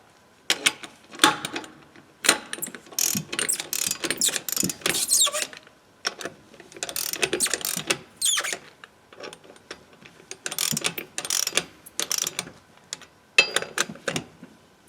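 Ratchet wrench tightening car wheel bolts during a tire change, with bursts of rapid clicking repeated in several runs separated by brief pauses, close by.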